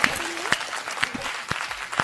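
Audience applause at a Hindi hasya kavi sammelan comedy poetry show, heard as a dense burst of clapping with a few sharp claps standing out and a voice briefly audible underneath.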